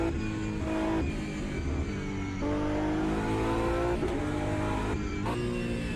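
Racing car engines in a video game, a green Porsche among them, whining and revving steadily at high pitch with gear shifts and pitch changes, loud and continuous.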